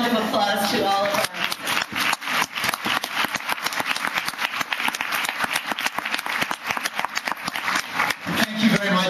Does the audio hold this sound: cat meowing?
no